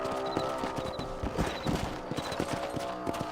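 Horse hooves gallop in Red Dead Redemption, a fast, steady clip-clop beat with rhythmic thuds close up, accompanied by faint game ambience.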